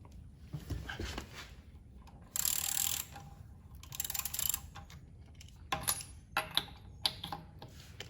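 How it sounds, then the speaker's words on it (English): Ratcheting socket wrench turning a wheel lock key on a car wheel during a spare tire change, close-up with bursts of rapid clicking separated by short pauses, fairly quiet with no talking. "Go and get your socket on your wheel lock key on there."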